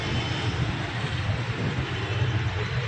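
Aircraft engines drone at an airport, a loud, steady low rumble that swells slightly and stays constant throughout, with no talking.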